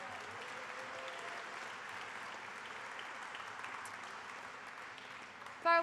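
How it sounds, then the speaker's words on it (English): Sustained audience applause greets truck driving students at a technical school graduation ceremony, with steady clapping that continues throughout and a brief voice near the end. "If I could have a round of applause for all of our truck driving students."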